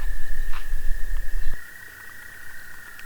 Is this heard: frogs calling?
yes